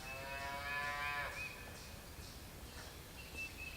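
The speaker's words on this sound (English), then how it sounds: "It's gone dead silent, except for the cows." A cow lets out a long, drawn-out moo at some distance, followed by quiet outdoor ambience with faint rustling.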